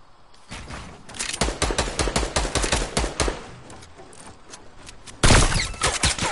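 Rapid bursts of gunfire from the video game Fortnite crackle in a steady rhythm, loud and close, followed by a louder burst of shots near the end, with no talking over them.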